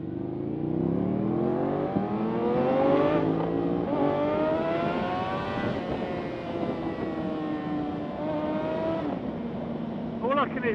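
Sportbike engine, a GSXR 750 or Ducati Panigale 959, running steadily with rising and falling tones as revs climb and ease, heard close under wind and road noise while people talk over it.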